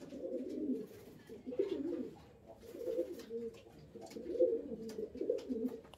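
Pigeons, including a young bird, cooing softly and repeatedly during vaccination, a low murmuring run of coos over a faint steady background, with no talk.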